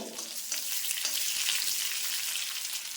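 Shallots, dried chillies and curry leaves fry in hot oil over a low flame, giving a steady, bright sizzle that holds even throughout with no talking.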